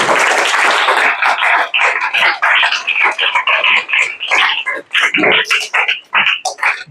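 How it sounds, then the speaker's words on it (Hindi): Students at a summer workshop orientation session for classes 5 to 10 clap together, a dense, loud burst of applause that pulses unevenly and runs for several seconds. "एक बार मेरे लिए तालियां बजा दो यार तुम लोग।"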